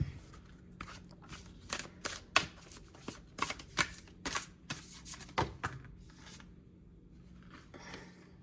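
Playing cards shuffled for a card reading, a run of crisp riffling bursts and soft slaps in an irregular rhythm, close and fairly quiet, trailing off into a faint rustle.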